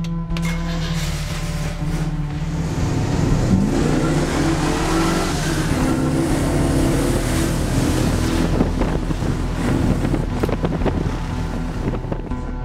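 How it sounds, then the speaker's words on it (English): An old-fashioned V8 with a 90-degree crank in a GTO car roars continuously, a loud, rough engine drone with revs swelling mid-way, buffeted by wind noise on the microphone. "there is just something about an old-fashioned V8 with a 90-degree crank and the incorrect firing order, strictly speaking. It just sounds wonderful."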